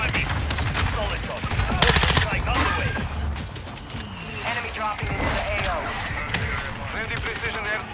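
Rapid automatic gunfire bursts in the video game Warzone, mixed with layered game effects and several players chatting over voice chat throughout.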